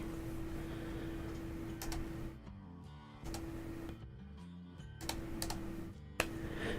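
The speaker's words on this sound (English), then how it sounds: "I assume that you can hear me clicking my laptop." Keys on a laptop keyboard click and tap in short bursts and scattered single strokes, close and quiet, over a steady electrical hum in an indoor room.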